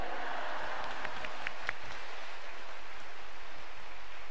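Congregation at a Korean church fasting revival service clapping to welcome the senior pastor, a faint, steady wash of applause with scattered sharper claps, heard at a distance throughout.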